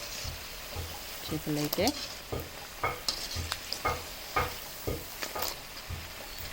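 Two kilograms of fish frying in hot oil for a homemade fish pickle, with steady crackling sizzle and occasional stirring scrapes throughout, while someone talks over the cooking.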